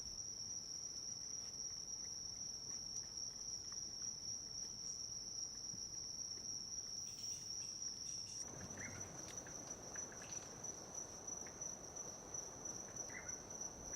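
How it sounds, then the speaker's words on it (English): Insects in a Central American forest keep up a continuous high, steady buzzing trill, with a softer rustling bed of forest ambience underneath that thickens partway through. "Other fascinating creatures found in the forest, if one looks hard enough, are insects of various shapes and colors."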